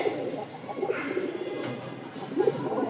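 A male pigeon, one of a newly housed pair of fancy breeds such as Lotan or Rajshahi, coos in low repeated throaty bursts, close by, with faint background noise.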